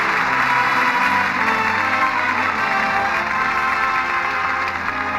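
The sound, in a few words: studio audience applause at end of radio show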